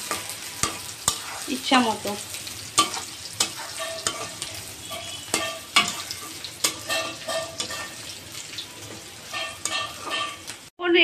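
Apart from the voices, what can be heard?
stirring onions frying in a pan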